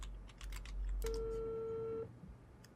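Telephone dialing in the horror game Unheard: a short run of keypad tones, then one steady dial tone held for about a second before it cuts off, heard close against a quiet background with no voices.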